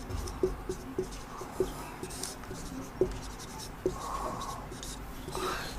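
Writing on a board during a history lesson, with faint scratchy strokes and several light taps, close, with a voice speaking intermittently over it.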